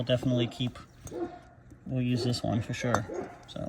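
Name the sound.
dogs barking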